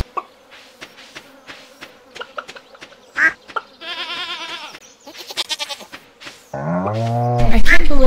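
Barnyard video game animals, a chicken and a goat, make a string of clucks and bleats followed by a long, loud buzzing bleat near the end, with quiet talk in between.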